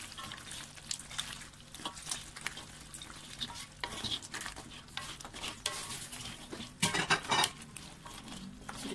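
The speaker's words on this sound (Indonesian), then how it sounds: "Kita tengok dia dah menggelegak tu, kita masukkan ketam kita." Crabs stirred into bubbling tamarind sauce for sambal ketam: continuous busy scraping and clattering of a utensil in the pot over steady sizzling and bubbling, close and lively, with a sharper burst of clatter near the end.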